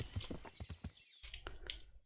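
Horse hooves clip-clopping in Kingdom Come: Deliverance, a quick run of close, distinct hoof strikes, a short pause, then a few more beats, fairly faint.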